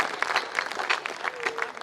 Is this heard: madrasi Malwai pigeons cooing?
no